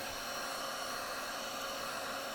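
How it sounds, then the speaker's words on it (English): Quiet, steady airy whoosh of a heat gun blowing on heat shrink tubing during a motorhome wiring repair, a continuous faint hiss with no other sounds. "I'm just going to basically blow it on that heat shrink."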